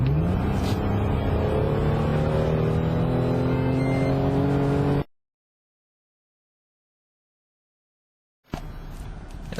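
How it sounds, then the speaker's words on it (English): Supercharged VY V6 Holden Commodore with a Raptor ProStreet kit, no intercooler, accelerating hard on bitumen from about 75 km/h, engine note rising in pitch under load for around five seconds, then silence before a brief return of engine noise. "We should be able to hear the supercharger."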